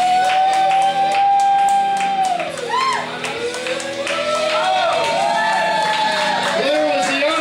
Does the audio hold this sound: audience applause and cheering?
yes